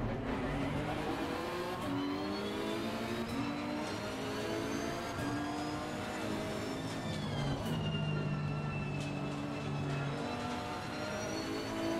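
Ferrari race car engine in the Assetto Corsa Competizione racing game, a loud, continuous high-pitched whine rising and falling through gear changes, with another car's engine layered in as it tries to pass.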